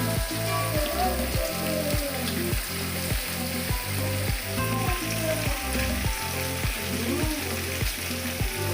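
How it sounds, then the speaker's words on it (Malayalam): Chicken pieces fry in oil for biryani, giving a loud, continuous sizzle close by. A regular low thumping pulse runs beneath it. "നമുക്ക് ബാക്കിയുള്ള ചിക്കനും കൂടി ഒന്ന് ഫ്രൈ ചെയ്തെടുക്കാം."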